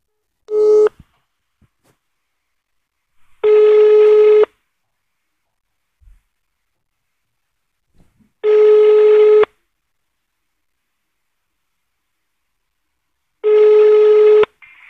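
A telephone ringback tone on a call to a Catholic helpline repeats three times in long, evenly spaced bursts, preceded by a short tone at the start, with silence between rings.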